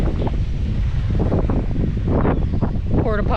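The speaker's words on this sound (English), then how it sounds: "Windy up here, sorry guys." Wind blowing on an exposed hilltop lookout, buffeting the microphone in a loud, steady rush for the whole few seconds, with faint gusting swells underneath.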